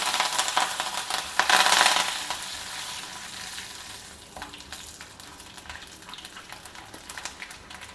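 Mustard seeds, urad dal and curry leaves sizzling in hot oil in a pan, a loud continuous crackling fry with a bright burst of spattering early on, close up and with no talk.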